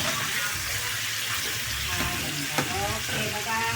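Adobong Adidas (chicken feet adobo) sizzles in a pan while being stirred, a loud, continuous fry with a few sharp scraping knocks near the end and faint voice traces beneath.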